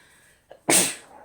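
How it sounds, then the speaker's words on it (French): A single sharp sneeze, preceded by a brief inhale, then a loud explosive burst that fades over about half a second in a quiet indoor room. "Pardon, excusez-moi, j'ai éternué"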